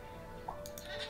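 Goat bleating in the farming video game Stardew Valley, a single short call heard faintly over quiet background game audio.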